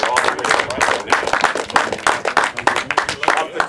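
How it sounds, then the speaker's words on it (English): Applause with scattered cheers from a small golf tournament awards crowd at Olivas Links, honoring three players tied at 71 net; dense, steady clapping fills the moment. "Round of applause for all of you."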